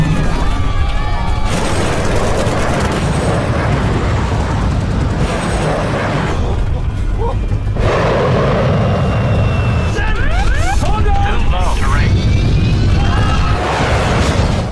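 Fighter planes roar and swoop through a loud, busy battle scene, engine drones rising and falling with sweeping pitch shifts, mixed with bursts and rumbles throughout.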